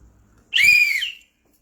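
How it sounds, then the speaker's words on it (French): A single sharp whistle blast rings out loud and close, held steady for a little under a second before cutting off, with no talking over it. "Je n'aime pas trop sortir ce sifflet."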